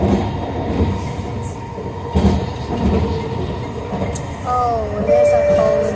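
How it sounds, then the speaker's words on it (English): A SkyTrain metro train rumbles along an elevated track near Brentwood station with continuous rolling clatter, brief thumps and rising wheel squeals toward the end. "This SkyTrain really snakes around, and the buildings are actually built around the SkyTrain track."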